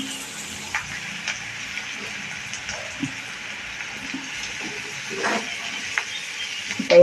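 A tempering of spices sizzles in hot oil for a purslane vegetable dish, a steady, fairly soft hiss with occasional small pops and ticks and no talk.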